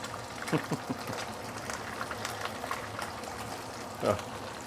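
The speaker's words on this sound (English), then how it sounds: "Let it fry a little bit longer." A large, thick fish fries in a pan for sweet and sour fish, bubbling and sizzling steadily with occasional louder spits and crackles.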